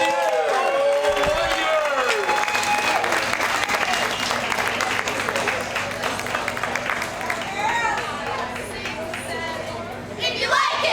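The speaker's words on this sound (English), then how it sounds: "Give them a cheer!" A large outdoor festival crowd cheers and applauds loudly for the Carpinteria High School Warrior cheerleaders brought onstage, sustained clapping and shouts filling the whole stretch with a brief swell near the end; voices of the crowd mix in throughout.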